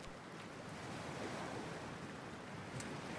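Water rushing and surging around a character entering cold sea water in Cyberpunk 2077, a steady broadband wash like surf with no distinct single splash, close and continuous throughout.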